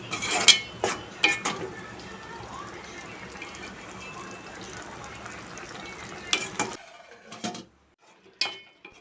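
Ridge gourd curry cooked with milk simmers on low heat, giving a steady soft bubbling sizzle from the pan, broken by clinks of a spoon against the pot at the start and end.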